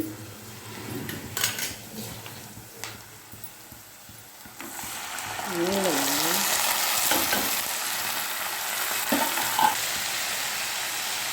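Bitter gourd pieces dropped into hot oil with garlic, starting a steady loud sizzle that fills the second half, with utensil stirring and scraping clatter in the pan throughout; no talking.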